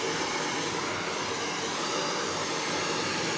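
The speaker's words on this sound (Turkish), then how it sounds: "üzerine fön çekeceğiz arkadaşlar." A hair dryer blows on freshly dyed grey ash hair, giving a constant, loud whooshing roar with no change for the whole stretch and no speech.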